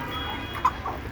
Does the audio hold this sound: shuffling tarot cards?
no